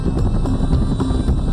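A military helicopter of the Vietnam War flies close and loud over a landing zone, its rotor thudding steadily and droning without a break.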